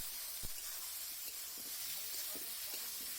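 Mashed roasted eggplant is stir-fried in a pan, a soft continuous hiss and sizzle with faint scraping clicks from stirring, quiet and close.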